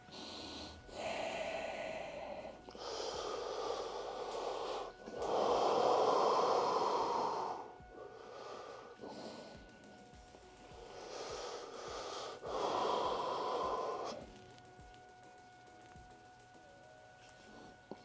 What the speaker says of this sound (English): Do the Wim Hof breathing techniques.